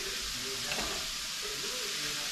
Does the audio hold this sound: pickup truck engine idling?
no